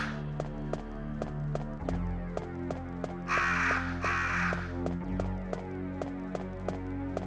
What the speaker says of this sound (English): this is technically a another room you can get attacked by crows in